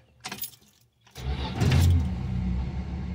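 A 1974 Dodge Dart, unstarted for five years and running on fresh gas, cranks and then fires into a loud, rough idle up close, after a jangle of keys and some brief rattling.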